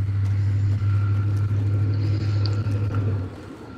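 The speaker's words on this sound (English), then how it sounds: "Did a truck just pass by your house? Yeah, man, that was a taco truck." A taco truck passing by a house gives a loud, steady low rumble that holds for about three seconds and then drops away as it moves off.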